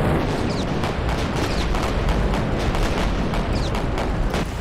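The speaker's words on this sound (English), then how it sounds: "Can't really tell if those are dive bombers or torpedo bombers. They landed really close though." Bombs dropped by bombers land close by in the Victory At Sea naval game, a steady barrage of heavy booms and rumbling explosions with repeated thuds throughout.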